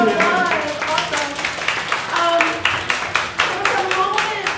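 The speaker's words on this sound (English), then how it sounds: "Round of applause." Classroom students clap together in a quick round, a patter of many hands with rhythmic accents, close and fairly loud, with voices mixed in under the clapping.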